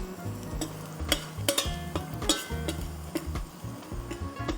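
Chopped garlic sizzles in a pan on the stove for a vegetable soup, a steady close frying hiss broken by a few sharp clicks and taps of stirring.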